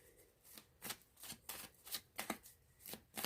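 Tarot cards riffle and slap together in quick, soft bursts, about ten shuffles in an uneven rhythm, close but quiet, with no voices.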